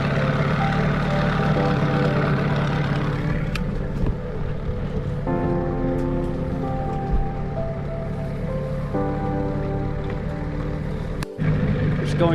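A motor dinghy drones steadily as it heads out of an inlet toward Cat Island, with an outboard hum and water noise continuing throughout and a brief knock near the end.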